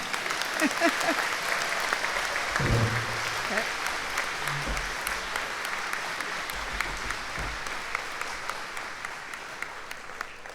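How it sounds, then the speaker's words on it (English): Applause fills a sports hall of fame induction dinner, a long run of many hands clapping at moderate distance with a few low voices and clinks mixed in near the start. "How about a round of applause for everybody now?"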